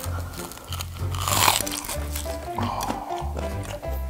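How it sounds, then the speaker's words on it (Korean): Crunchy fried chicken bitten close to the microphone, a few crisp crackling crunches with soft chewing squish, amid background music and brief voices. "이거 바삭, 되게 바삭바삭했어"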